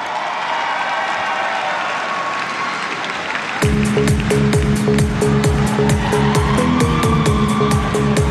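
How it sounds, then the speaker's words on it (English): An arena crowd applauds the 29th SEA Games 2017 men's team badminton medalists with a dense, steady wash of clapping for about three and a half seconds. Loud, pulsing music with a strong beat then takes over. "Give them a huge round of applause"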